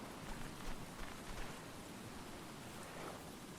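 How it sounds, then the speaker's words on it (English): Steady rain pours down in the survival video game Stranded Deep as a constant soft hiss of falling water, quiet and unbroken throughout. "The rain fills up these buckets of water with fresh water."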